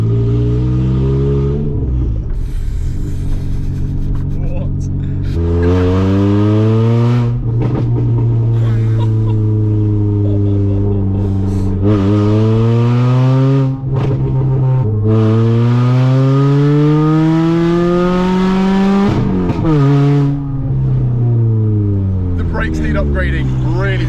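A tuned 200 bhp Ford Fusion ST engine revs hard and loud from inside the car, pitch climbing through several gears with brief dips between shifts, while people talk over the roar.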